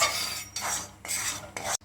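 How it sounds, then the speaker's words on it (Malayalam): Rice flour is dry-roasted in a pan, with a spoon making three or four rhythmic scraping strokes in close succession, near and fairly soft, no talking. "നല്ലവണ്ണം വറുത്തെടുക്കണം നല്ലപോലെ ചൂടാവണം"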